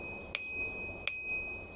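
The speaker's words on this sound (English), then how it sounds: "You get a little bell." The small bell on a DYU D3F mini folding electric bike rings twice, each a bright, clear ding with a pure ringing tone that lingers after the strike, close up with no talk.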